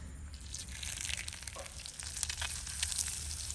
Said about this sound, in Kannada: ಇದನ್ನ 2 ಸೈಡಲ್ಲಿ ಕೂಡ ಅರ್ಧ ನಿಮಿಷ ಫ್ರೈ ಮಾಡುವ